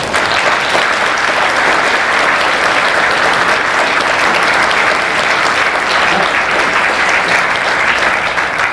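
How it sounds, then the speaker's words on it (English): A convention audience at a Space: 1999 event claps loudly and continuously, a dense, even wash of applause lasting the whole stretch with no break. "That applause is for all of you"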